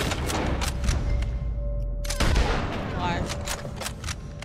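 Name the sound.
rifle shot in the video game Red Dead Redemption 2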